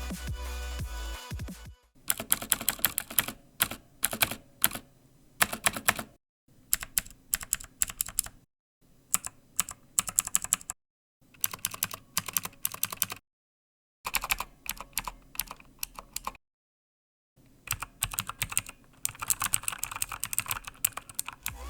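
Rapid clacky keystrokes on a Motospeed CK108 mechanical keyboard come in bursts of typing, separated by short silent pauses, close and crisp.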